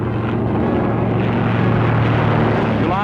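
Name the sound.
early airmail propeller plane taking off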